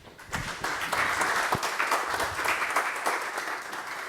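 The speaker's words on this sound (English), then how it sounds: "Let's give a round of applause for Poul-Henning." A conference audience applauds with a dense patter of many hands clapping, rising quickly and holding steady for several seconds.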